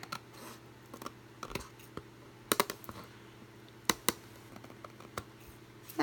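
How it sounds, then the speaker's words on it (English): Scissors snip excess cardstock from the edge of a gold-clasp envelope in a few brief, close, dry cuts and rustles over a quiet background, with a couple of sharper clicks. "trim off any of the little excess cardstock"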